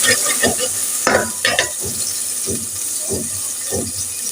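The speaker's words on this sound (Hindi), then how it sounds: "ये लहसुन अदरक का पेस्ट हमने डाला है। अब इसको हम थोड़ा सा फ्राई करते हैं।" Garlic ginger paste frying in a pan for a home-style remedy dish, with a steady close sizzle broken by repeated stirring scrapes at a loose, regular rhythm, and no talking.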